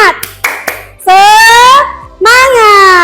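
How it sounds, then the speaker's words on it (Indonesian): A school class does the 'tepuk semangat' clapping cheer: a few sharp claps in a quick rhythm, then children's voices loudly chanting together in two long sustained shouts, close and filling the room. "coba kita tepuk semangat biar semangat ya"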